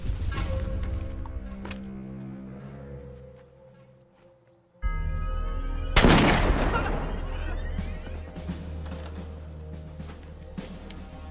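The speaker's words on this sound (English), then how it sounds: "The rest of you be ready to provide covering fire on my command." Covering gunfire in a film action scene: a sharp loud burst of shots around the middle, with scattered cracks and reports continuing after it over a sustained low rumble.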